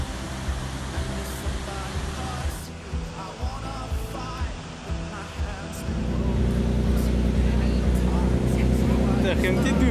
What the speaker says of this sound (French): Le bateau nous approche de la cascade de Stirling, haute de 155 mètres, afin que nous puissions nous rendre compte de sa puissance